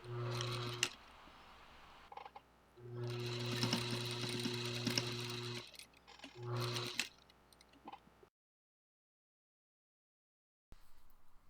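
A sewing machine stitches lace down on a wedding gown in several close, rattling bursts of varying length separated by short pauses, then falls silent before a brief restart.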